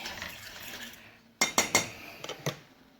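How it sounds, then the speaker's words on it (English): A spoon stirs thickening caramel in a pan on a home stove: a soft scraping hiss, then a quick run of sharp, close metallic clinks against the pan, with a few lighter taps afterwards. "Let's check on the caramel, give that a stir."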